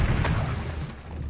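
An Incendio fire spell is cast in Hogwarts Legacy, a loud broadband whooshing burst with a sharp onset that rumbles on briefly, with no talking.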